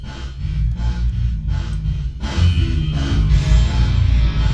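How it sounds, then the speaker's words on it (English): A metallic FIR filter tone built from all the prime numbers, a dense, ringing buzz that pulses in uneven bursts, loud and alone. "So that's the sound of just all the primes."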